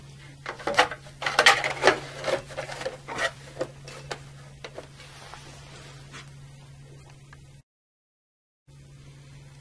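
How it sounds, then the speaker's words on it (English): A front cover is fitted onto an NRX circuit breaker, with a cluster of close plastic and metal clicks, taps and rattles that thin out into quieter handling over a steady electrical hum, then a brief gap. "first pull down on the manual charging handle, then position the front cover on the breaker"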